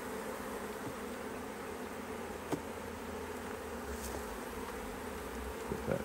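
A honey bee swarm buzzing inside a hive during a beekeeping inspection, a soft continuous insect drone with faint handling clicks and knocks against the wood.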